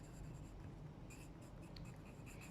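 Marker or chalk strokes on a board during an accounting lecture, a steady scratchy writing sound with short bursts of strokes over constant low room hum, fairly faint and with no talking.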